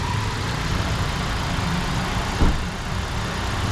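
A 2016 Toyota Avanza's engine idles close by in a steady, even low rumble, with one brief thump partway through and no talk.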